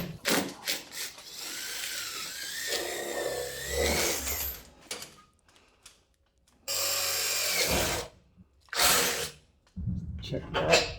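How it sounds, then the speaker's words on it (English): A drill bit bores a bolt hole through a truck topper in several whining bursts of different lengths, separated by pauses, with someone speaking between them. "I'm going to drill from the outside with a drill bit just big enough to clear the threads of the bolt"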